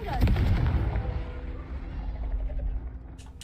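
A Confringo fire spell blast in Hogwarts Legacy booms loudly at the start, then decays into a long low rumbling tail that fades over a few seconds.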